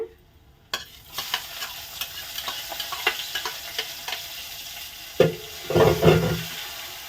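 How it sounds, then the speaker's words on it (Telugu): Onion and green chillies frying in a pan, with a continuous sizzle and ticking spatula taps that swell into louder scraping stirs near the end. "ఉల్లిపాయ పచ్చిమిరపకాయ బాగా వేగలిద్దాం"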